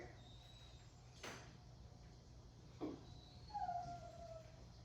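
Dogs shut in a bedroom give a few faint, high whines and a short yelp in a quiet room, with a low background hum throughout.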